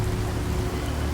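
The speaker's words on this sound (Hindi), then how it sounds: "रीमा कुछ ही कदमों की दूरी पर खड़ी थी और बारिश में भीग रही थी" Steady rain falls on surfaces on a stormy night, a dense, even wash of drops that stays loud and constant throughout with no voices.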